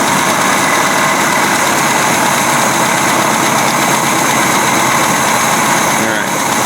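A close, loud engine idles steadily while its carburetor is adjusted for the leanest smooth idle, holding an even, constant drone throughout with no clear change in speed.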